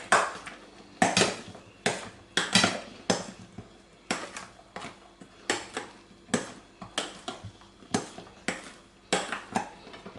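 Wafers are mixed into a no-bake cream cake mass in a bowl, with a spoon or spatula knocking against the bowl in a steady series of sharp clinks and taps, close and clear, no talking.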